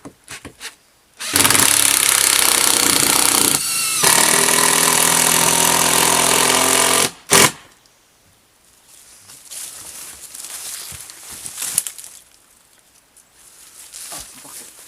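A power screwdriver whirs steadily for about six seconds, close and loud, driving a long sarking screw down through counter-battens into a roof, with a brief pause midway, then a final short burst and quiet shuffling afterward.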